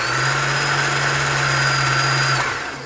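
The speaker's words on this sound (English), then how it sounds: "I can just press on the pedal to start winding the thread onto the bobbin" A sewing machine winds thread onto its bobbin with a steady, loud motor whine held for more than two seconds before it winds down and fades.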